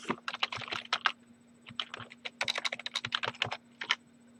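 Bursts of typing on a computer keyboard, quick clusters of close, crisp key clicks separated by short pauses, with a faint steady hum underneath.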